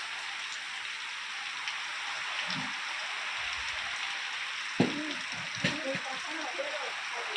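Steady rain falls on a farm near Keshod, Manekvada and Mahobatpra, a continuous even hiss with occasional drips and knocks, and brief voices talk beneath it.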